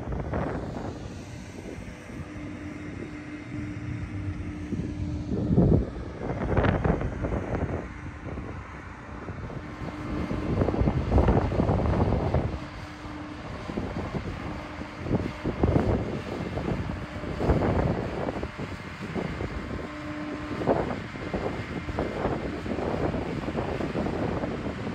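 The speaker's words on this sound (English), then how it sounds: "now let's watch an autonomous orchard sprayer" An autonomous orchard sprayer runs at an outdoor farm show, a steady engine and fan drone with repeated surging bursts of air and spray over wind noise, moderately distant and with no talk.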